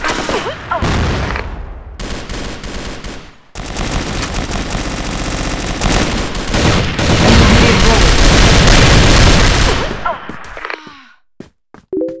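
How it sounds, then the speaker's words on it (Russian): Gunfire in the Vietnam map of the shooter game Crossfire with an M4A1, long loud bursts of rapid automatic fire and booms, a short gap, then tapering shots and a few sharp clicks at the end. "Граната пошла!"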